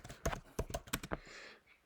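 Typing on a computer keyboard while entering text in GIMP: a short run of distinct, fairly quiet key clicks in an uneven rhythm, followed by a brief soft rustle, with no speech.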